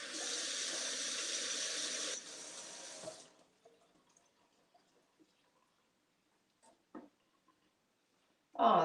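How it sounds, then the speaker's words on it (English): A pepper is rinsed under a running kitchen tap: a steady hissing stream for about two seconds, a softer splash, then the water cuts off into near silence broken by a few faint clicks and knocks. "Let's rinse this pepper off."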